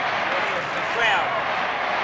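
A large stadium crowd at a 1987 Sydney v Fitzroy Australian football match keeps up a steady, dense roar of chanting and cheering, with a commentator's voice over it.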